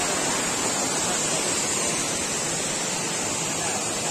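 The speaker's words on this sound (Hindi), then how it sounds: "यही है वो वाला वाटरफॉल जिसका नेम है रानी डुडुमा।" Rani Duduma waterfall in Koraput, a steady, loud broadband rush of falling water that fills the whole stretch without a break, close by and with no voices over it.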